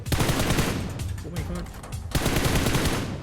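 Gunfire from the PUBG Mobile game, with dense bursts of rapid shots that are loud and near, broken by a short lull before another barrage; a voice speaks briefly over the shooting.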